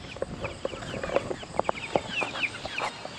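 Chicks and turkeys on a farm chirp and peep in a busy cluster of short, close calls, with occasional clucks scattered throughout and no talk.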